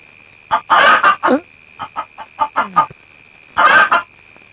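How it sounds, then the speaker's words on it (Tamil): Chickens cluck in quick bursts, a run of short clucks followed by a louder squawk, close by with a steady high hum behind them. "கோழி"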